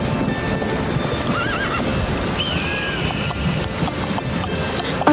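A horse neighs twice in rising whinnies, while hooves clip-clop steadily over a busy, breezy outdoor background.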